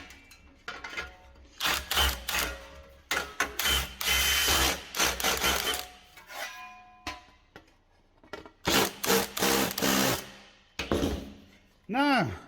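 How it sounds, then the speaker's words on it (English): A slightly blunt drill bit bores through thin metal in a series of loud, harsh grinding bursts separated by short pauses, ending with a brief whining spin-down. "it's still kind of easy with thin metal for having a drill bit that's slightly blunt"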